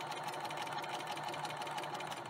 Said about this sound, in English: Then place it in the machine and use a 1/4 inch seam allowance and begin to stitch it together.